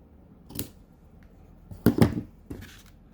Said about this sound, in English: Bring in my snips.